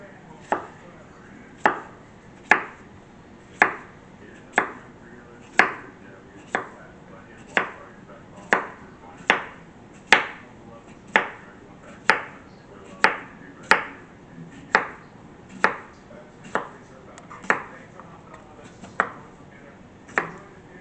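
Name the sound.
knife slicing cucumber into quarter inch slices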